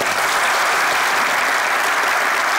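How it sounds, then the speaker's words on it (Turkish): Studio audience applause on a Turkish comedy show, a dense wash of clapping, loud and steady without breaks, with no speech over it. "Hamza'nın gıyabında bir alkış."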